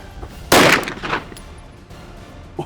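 A single loud 9mm pistol shot firing a light 77 grain self-defense round, a sharp close blast that rings out briefly, followed by quieter handling noise and a faint knock near the end.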